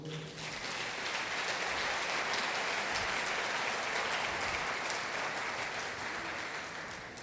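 A church congregation at an evening worship service in Araruama claps together in sustained, dense applause that swells quickly and holds steady throughout, with no talk over it.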